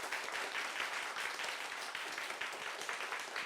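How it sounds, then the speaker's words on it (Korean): Steady audience applause follows a lecture on peace on the Korean peninsula, a fairly quiet but continuous crackle of many hands clapping in a hall. "다시 한번 우리 박사님께 박수 부탁드릴게요."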